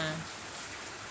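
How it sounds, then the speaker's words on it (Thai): Heavy rain falling outside a home, a brief, faint and steady hiss of downpour with no distinct drops standing out. "ที่บ้านนะคะฝนกำลังตกหนัก"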